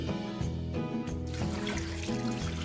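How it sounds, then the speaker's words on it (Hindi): Water pours steadily into a cooking pot of mutton yakhni on the stove, a continuous close splashing fill with no talk over it. "अब हम इसमें डालेंगे पानी"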